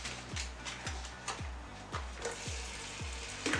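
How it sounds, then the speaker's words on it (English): Lemon slices sizzle in hot melted butter and olive oil in a pan, a faint, steady frying hiss with soft, regular ticking pops about every half second. "So we put the lemon in and it's bubbling in all that fat."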